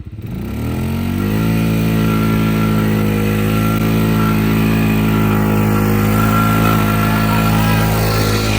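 A Polaris Sportsman 500 ATV engine cranks and catches, then settles into a steady, loud, close running drone with a rising whine while its wheels spin, with no voices.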